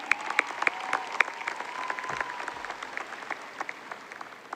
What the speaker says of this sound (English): They do deserve a round of applause again